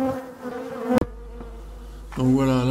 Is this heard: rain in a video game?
no